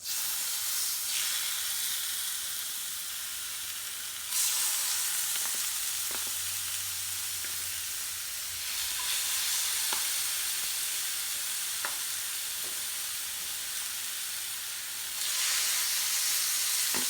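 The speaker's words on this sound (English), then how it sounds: "And then we can fry." Rice sizzling and frying in a pan with stock, a steady broadband hiss with occasional stirring clicks and brief surges in intensity, continuous and close throughout.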